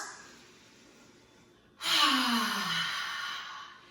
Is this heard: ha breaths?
yes